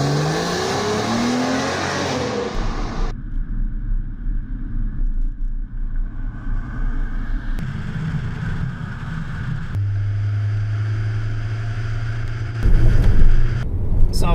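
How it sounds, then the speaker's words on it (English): A Porsche 2.7 Tiptronic accelerating on the road, its engine rising in pitch through several gear changes, then a steady droning cruise with wind rush, loud and heard from inside the car. "I'm taking a blast up the road and see what we got speed-wise."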